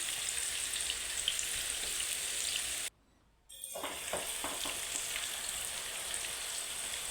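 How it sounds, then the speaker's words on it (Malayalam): Sliced bitter gourd frying in hot oil in a pan, a steady dense crackling sizzle close by, briefly cut off for a moment before resuming with a few stirring scrapes. "ഇതിൻ്റെ രണ്ട് സൈഡ് നന്നായിട്ടൊന്ന് ബ്രൗൺ കളർ നമ്മളൊന്ന് ഫ്രൈ ചെയ്തെടുക്കണം"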